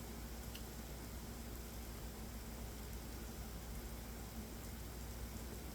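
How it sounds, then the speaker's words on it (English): Steady rain falls outside at night, a faint, even hiss that continues unbroken with no other distinct sounds. "It's raining outside."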